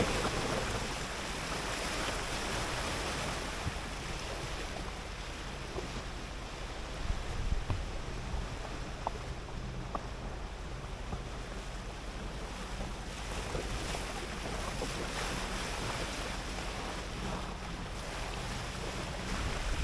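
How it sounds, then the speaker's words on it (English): Sailing yacht under engine at sea on a passage from Ipswich to Plymouth, with a steady broadband wash of waves and wind buffeting the microphone, and a low engine hum running continuously underneath throughout. "Still under engine, we're just waiting for the right moment to get the sails up"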